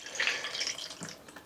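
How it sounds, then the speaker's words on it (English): Rainwater poured into a seed tray for giant onion seedlings, giving a brief close splashing trickle that fades to a lighter patter. "in that tray I'm putting some water"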